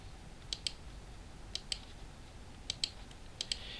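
Someone types on a computer keyboard, with faint, crisp key clicks arriving in quick pairs and short clusters separated by brief pauses against a quiet background.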